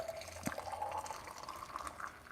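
Just-boiled water poured from a kettle into a milk pitcher, a close gurgling, rising fill lasting a couple of seconds with a small splash near the start.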